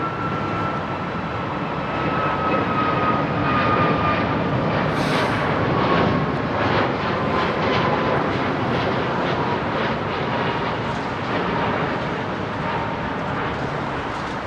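A Vietnam Airlines jet airliner climbs out of Heathrow Airport with its gear down, producing a loud, broad, rumbling roar that holds steady and close throughout with no speech.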